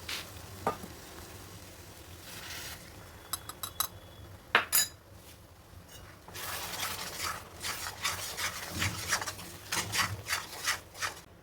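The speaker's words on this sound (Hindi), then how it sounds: "मसाले डालने के बाद धीमी धीमी आंच पर इसे तब तक भूनेंगे" Spice paste frying in oil in a pan over a low flame, a steady soft sizzle with repeated scraping and rubbing of a spoon stirring against the pan, close and fairly quiet, no voices.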